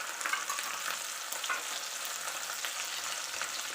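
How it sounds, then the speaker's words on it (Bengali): Spice masala with salt and turmeric being stirred and fried in a pan for a Bengali dak bungalow chicken, giving a steady close sizzle with scraping spoon strokes and no voices. "দিয়ে এরকম করে মশলাটা আমি নেড়ে নেব"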